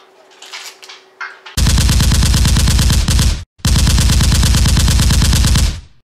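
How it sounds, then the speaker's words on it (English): Kalashnikov machine gun on automatic fire: two long, very loud, rapid-fire bursts close up, split by a brief gap, following a few seconds of quieter clatter and background noise. "Is like Kalashnikov, you know, is machine gun. You shoot."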